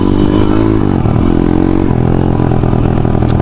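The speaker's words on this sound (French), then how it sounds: "Je m'en excuse si vous entendez le sabot moteur un peu vibrer, donc c'est lui parce que voilà il manque une vis" A dirt bike engine drones steadily and close, its loose engine skid plate, missing a screw, adding a buzzing vibration throughout.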